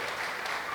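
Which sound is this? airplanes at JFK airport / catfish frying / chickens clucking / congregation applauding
congregation applauding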